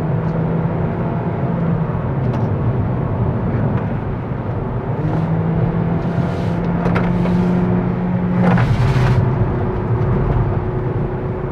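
A Kia Niro Hybrid drives along a road with steady engine drone and rolling tyre and wind noise, the engine note shifting pitch as it pushes through handling manoeuvres, heard from inside the car.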